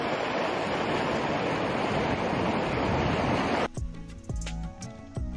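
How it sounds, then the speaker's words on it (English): Steady broadband rush of river water flowing in a valley, loud and continuous, then cutting off abruptly near the end to a quieter background with scattered low thumps. "Look at the river."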